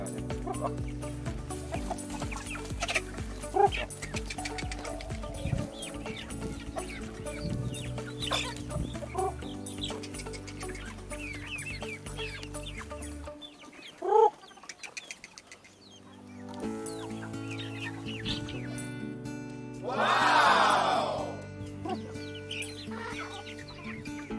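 Hens cluck steadily at feeding time over constant background music, with a brief flurry of wing flapping near the end.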